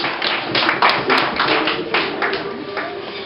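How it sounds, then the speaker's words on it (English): A small group of wedding guests claps and cheers briefly during the speeches, the patter fairly close and a little uneven, lasting just a few seconds. "Round of applause there, guys."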